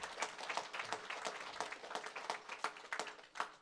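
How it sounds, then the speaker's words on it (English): Audience at a school ribbon cutting ceremony clapping steadily, a soft, fairly distant spread of applause that holds throughout. "Let's give that a big round of applause."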